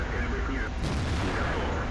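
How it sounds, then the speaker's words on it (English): Battle noise in the tank game World of Tanks as an artillery shell strikes a KV-1S heavy tank, a dense rumbling barrage of booms and gunfire, loud and continuous throughout. "Artillery hits me in the face."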